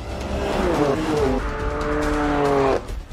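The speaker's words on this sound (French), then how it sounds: "Nous commençons par envoyer sur le circuit une berline sportive, la BMW M3, pour obtenir un chrono de référence." A BMW M3 sports sedan lapping a race circuit, its engine note rising and falling through gear changes with tire squeal, loud and steady for a few seconds before the sound drops away.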